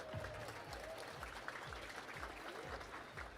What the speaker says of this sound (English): Give Will a round of applause, please.